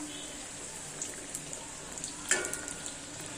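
Samosas frying in hot oil at home: a steady soft bubbling crackle with scattered small pops and one sharper spit, moderately quiet and close.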